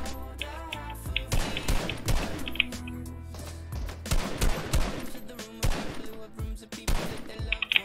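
Gunfire in Fortnite: rapid bursts of loud automatic shots and single cracks, mixed with impacts and building crashes, coming in clusters across the whole stretch.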